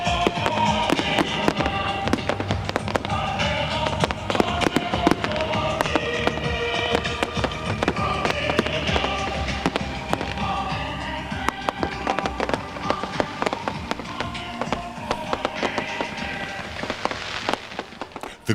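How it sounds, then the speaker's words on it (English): A fireworks display closing an evening event, with a dense stream of sharp pops, crackles and bangs going off continuously at fairly close range, loud throughout and without speech. "The grand finale to the evening is a firework display, which comes to a rather premature end."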